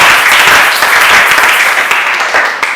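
A church congregation bursts into loud, dense applause to acclaim God, a sustained wash of many hands clapping close and full, holding steady before tapering slightly at the end.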